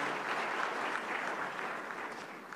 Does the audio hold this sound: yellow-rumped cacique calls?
no